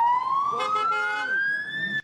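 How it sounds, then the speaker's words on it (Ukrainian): Ceremonial police car sirens sound as ten patrol cars of a Kyiv traffic police regiment drive onto the regiment grounds, a loud, steadily rising wail that holds continuously, with a faint voice underneath. "Під урочисту сирену 10 автомашин заїжджають на територію полку."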